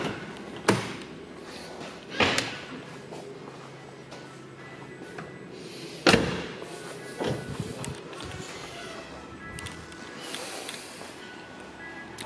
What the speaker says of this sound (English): I will open the boot so we can see the engine